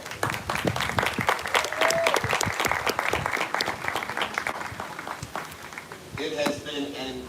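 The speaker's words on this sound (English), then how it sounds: "Let's give a round of applause." A crowd at a tribute concert and reception for a triathlete applauds steadily, with dense clapping throughout, and a voice speaks near the end.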